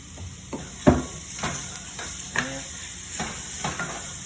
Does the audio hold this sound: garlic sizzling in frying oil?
yes